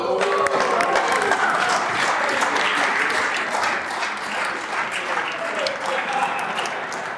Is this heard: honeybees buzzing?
no